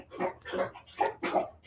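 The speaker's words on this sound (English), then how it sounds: "that sounds like a dog drinking water" A bulldog laps water in four rhythmic bursts, each a wet, fairly close slurp with brief gaps between them, heard alone without talk.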